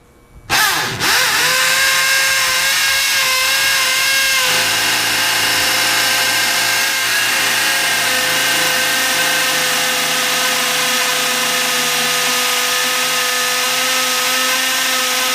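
A drill with a two-cutting-edge Bosch bit bores into steel-reinforced concrete: a loud, steady whine starts abruptly after a brief thump and grinds on continuously, its pitch shifting slightly partway through, with no talking.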